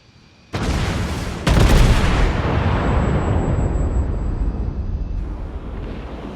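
Heavy naval gunfire from a North Carolina battleship in World of Warships: two loud booming salvos in quick succession, each trailing into a long rumbling roar that carries on without any talk.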